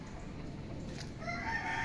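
Roosters crow and hens cluck nearby in a noisy backyard in Laguna, Philippines, the calls overlapping and growing louder toward the end.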